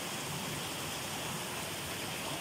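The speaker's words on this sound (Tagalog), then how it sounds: "Sa lakas naman ng tubig." Rushing water pours from a waterfall or stream near a cave, making a steady, unbroken hiss with no other sounds.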